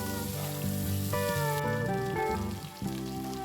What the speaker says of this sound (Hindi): आलू लाल हो गए, प्याज डाल दी, फिर प्याज थोड़ा सा हल्का सा भून लूँगी